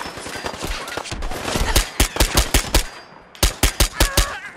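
Rapid pistol fire from an HK USP in the video game Fallout 4, loud and close: an irregular run of sharp shots rising in pace, a brief lull, then four more quick cracks.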